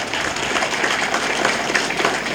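Audience applause welcoming a Congress party campaign chairman at a Seva Dal training camp at Nampally Exhibition Grounds, a steady dense clapping from a crowd that holds at an even level throughout with no break.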